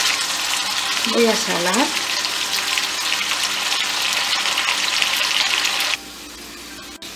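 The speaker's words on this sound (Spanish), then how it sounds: "En una sartén con un poco de aceite voy a poner toda la carne." Meat sizzles and fries loudly in a pan of hot oil, a steady close crackle with a brief stir early on and a voice speaking once; the sizzle drops to a faint hiss near the end.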